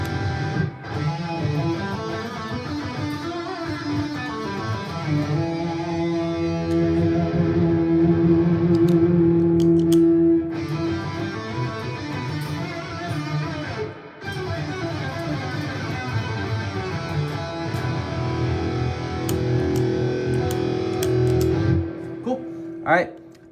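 Electric guitar played through a Quad Cortex in stomp mode with delay and reverb, a sustained, loud distorted passage with ringing echoes running continuously for over twenty seconds with a brief dip midway.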